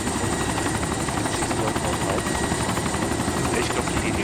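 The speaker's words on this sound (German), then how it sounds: "Ich glaube, die Helis hat es noch nicht geschossen." A helicopter in the video game DayZ Origin drones loudly and steadily throughout, a dense, unbroken rotor and engine roar close at hand.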